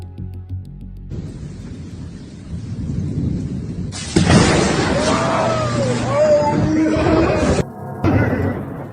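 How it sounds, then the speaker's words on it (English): Thunder from a nearby lightning strike during an approaching thunderstorm rises into a loud, sharp crack followed by rolling rumble, with rain noise and indistinct voices mixed in. "there's a thunderstorm approaching"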